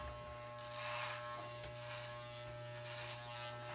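Electric hair clippers hum steadily, quiet and close, as they cut short hair down toward the nape of the neck to blend a fade, the buzz rising a little as the blades meet hair.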